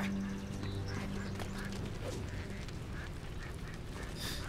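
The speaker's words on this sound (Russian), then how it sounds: "они не могут убить бедную утку" Duck quacking in the Risen 3: Titan Lords video game, repeated calls set against a dense, steady wash of game ambience and background noise.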